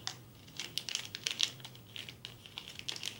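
A tight foil seal on a bamboo collagen sanitary pad package is picked at and pulled, giving quiet, close crinkling and small tearing crackles in irregular bursts.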